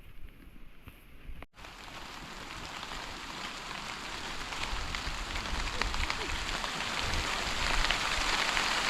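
Rain pours on a farm field at dusk in the rainy season, a dense continuous hiss that grows louder over time after a brief thump near the start.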